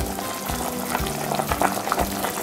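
Vegetable soup with spaghetti, mushrooms and a stock cube bubbling in a pot, a steady close simmer with soft popping and gurgling throughout.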